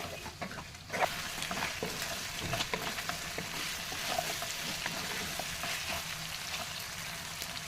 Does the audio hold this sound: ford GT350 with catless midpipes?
no